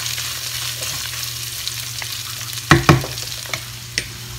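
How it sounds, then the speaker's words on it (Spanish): Chopped onion and pressed garlic fry in rendered chorizo grease in a pan, giving a steady close sizzle that is broken by a couple of sharp stirring clacks and scrapes. "Una vez que el chorizo soltó toda su grasita, vamos a agregarle la cebolla."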